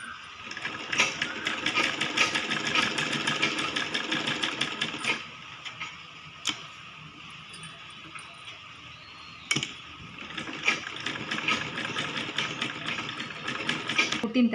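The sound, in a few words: sewing machine stitching a kids' lehenga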